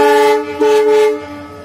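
A train horn blasts loud and close in one sustained tonal honk at a railway level crossing, fading toward the end.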